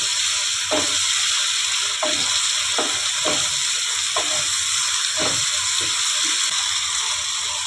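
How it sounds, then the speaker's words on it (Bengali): Onion paste fries steadily in a pan with a loud, constant sizzle, broken every second or so by the soft knock and scrape of a spoon stirring. "এই যে পেঁয়াজটা দেখুন, একটু ব্রাউন করে ভাজতে হবে"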